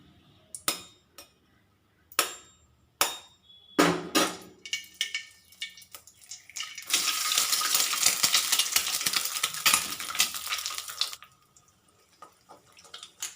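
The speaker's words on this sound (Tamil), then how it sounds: "கொஞ்சமாக எண்ணெய் சேர்த்துட்டு இப்போ நம்ம முட்டையை விரட்டி எடுத்துடலாம்" Eggs scramble in a little oil in a pan, starting with several sharp clinks and taps, then a loud sustained sizzle as they hit the pan. It fades to quieter stirring and scraping, with no talk.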